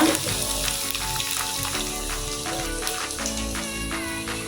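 Cardamom, cloves, ginger paste and garlic paste fry in a pan in a Bengali village kitchen, a loud close sizzle that hisses continuously with faint crackles, without speech.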